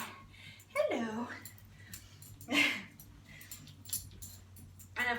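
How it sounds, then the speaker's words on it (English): Puppies whimper and yip in short, high, rising whines spaced a few seconds apart, fairly faint over a quiet room with some low background hum. "puppies are always helpful"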